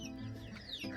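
Chickens on a farm with a rooster nearby, giving a short burst of soft clucking calls, fairly close and moderately quiet.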